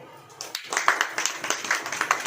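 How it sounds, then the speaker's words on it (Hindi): A church congregation claps in a quick, fairly steady rhythm for about two seconds, moderately close and not very loud. "ताली बजाओ"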